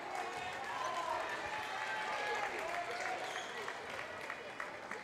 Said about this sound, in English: Nice round of applause for Edwards as he leaves the game